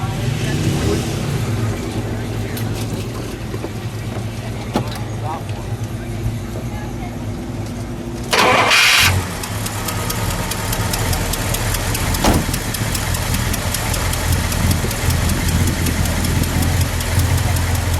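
A 1960 DeSoto FireFlite engine cranks and starts with a brief burst, then settles into a steady, loud, close idle with a faint knocking texture, while people talk over it.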